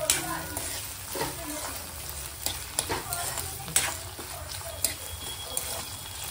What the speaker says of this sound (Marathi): मिरची उडायला लागलेली आहे.